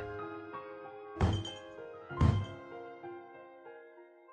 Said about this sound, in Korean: 마치 누군가 물건으로 책상을 치는 그런 소리였는데